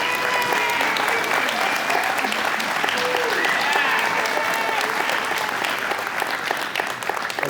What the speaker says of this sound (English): we all applaud and thank you